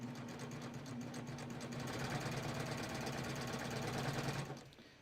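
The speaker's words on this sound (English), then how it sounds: "So now I'm going to start stitching." A sewing machine runs steadily while stitching a cover hem on a tee, giving a fast, even mechanical hum and rapid needle clatter for several seconds before slowing and stopping near the end, with no talking.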